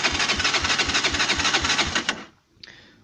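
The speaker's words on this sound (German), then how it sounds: "Jetzt drehen wir den Anlasser" A starter cranks an SMC RAM 150 four-stroke engine during a compression test, giving rapid, even, loud chugging pulses for about two seconds. It then stops abruptly, leaving a brief quiet with a small click.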